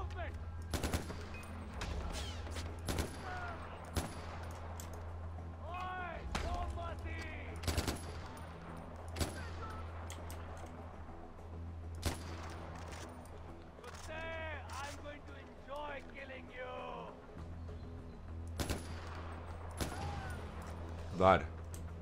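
Gunfire in the PC shooter Far Cry 4, with repeated sharp shots and bursts scattered through the stretch at moderate loudness, mixed with game sounds and someone talking over them.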